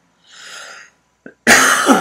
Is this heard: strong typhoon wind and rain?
no